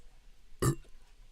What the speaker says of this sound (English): I burped. Did you hear it?